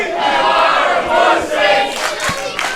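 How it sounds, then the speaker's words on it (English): A wrestling crowd in Sunbury chants an insult at Brian Kendrick during a WrestleFest match, a loud, rhythmic mass of voices rising and falling in unison, close and dominant. "You are a pussy, says the crowd of Sunbury"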